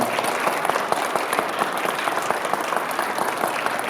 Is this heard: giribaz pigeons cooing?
no